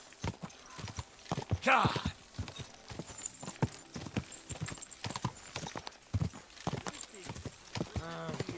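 In the Kingdom Come Deliverance II video game, a horse's hooves clip-clop in a steady walking rhythm on hard ground, close and fairly quiet, with a short spoken word and a brief whinny near the end.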